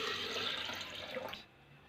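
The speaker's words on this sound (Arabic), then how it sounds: "ونزلت بالميه المثلجه يا حبايبي" Iced water pours for homemade fresh mango juice, a steady splashing stream running loud for over a second before cutting off abruptly into near quiet.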